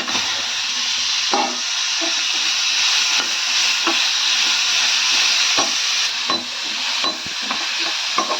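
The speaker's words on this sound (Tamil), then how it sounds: "நல்லா வதக்கிடுவோம்." Tomatoes sizzle in hot oil in a pan for a Tamil kathirikai curry, a steady close frying hiss broken by soft scrapes and stirring knocks from a spatula.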